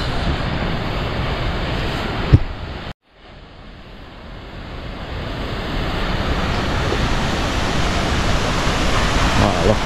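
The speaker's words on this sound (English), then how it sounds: "we're coming to the waterfall." Steady broadband rush of the Git Git waterfall in Bali, a continuous roaring wash that fades out briefly after a small knock, then slowly swells back louder and fuller as if drawing closer.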